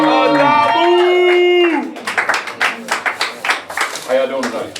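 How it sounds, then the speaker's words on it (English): An audience at a poetry open-mic session applauds a performer, bursting into lively clapping after a stretch of speech from the host; the claps are steady and moderately loud. "y'all give me a round of applause"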